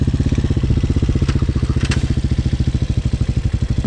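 A Hawk 250 motorcycle engine putters along while being ridden on Halloween, a steady, rapid, thumping exhaust beat that stays close and loud throughout, with a couple of faint clicks on top.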